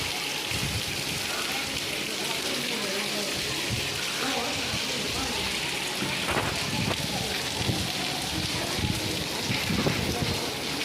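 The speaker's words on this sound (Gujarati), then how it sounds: "જો આવે છે વરસાદ અહીંયા" Steady, heavy summer rain in Porbandar hisses down throughout, loud and close, with a voice talking intermittently beneath the downpour.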